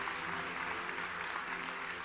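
An audience claps hands in a steady, dense burst of applause, evenly sustained at moderate distance without voices.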